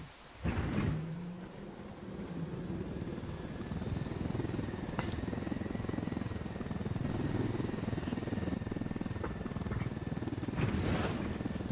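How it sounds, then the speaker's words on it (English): A helicopter in the Ghost Recon Wildlands video game gives a dense, steady rotor roar and rumble that runs throughout, with a few sharp bangs breaking through near the start and end, and no talking. "let's take this chopper then"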